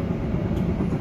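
A Kereta Api Indonesia passenger train rides in business class between Madiun and Surabaya Gubeng, filling the carriage with a continuous low rumble and steady wheel noise, heard alone from inside the coach.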